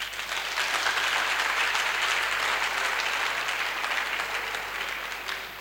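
Sustained applause from a large crowd at a graduation and closing ceremony for a training project, a dense, even wash of clapping that holds steady for several seconds and fades slightly at the end.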